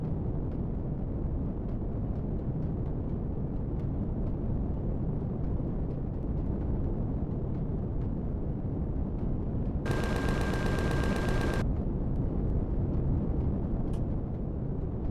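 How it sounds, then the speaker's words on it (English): Laser fire from enemy ships pounds against a player's spaceship in the space survival game Empyrion Galactic Survival, a dense continuous barrage of rapid impacts with a brighter, sharper burst of hits partway through. "Wow, them lasers are doing a number."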